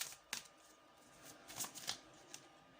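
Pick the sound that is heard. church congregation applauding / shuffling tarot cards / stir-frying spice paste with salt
shuffling tarot cards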